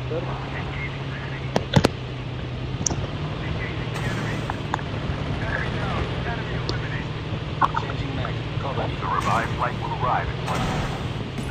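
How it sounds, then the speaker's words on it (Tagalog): A helicopter in Call of Duty Mobile drones as a steady low hum throughout, with scattered sharp gunfire pops early on and faint voices mixed in. "Diri kaning adto kay may umagi nga helicopter."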